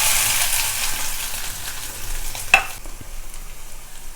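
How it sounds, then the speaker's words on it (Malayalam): Minced chicken hits hot oil on a tawa with a loud hissing sizzle that slowly settles into steady crackling frying, with a brief clatter of stirring partway through. "ഇതിലേക്ക് നമ്മൾ ഈ പൊടിച്ച് വെച്ചേക്കുന്ന ചിക്കനാണ് ആദ്യം ഇട്ട് കൊടുക്കേണ്ടത്."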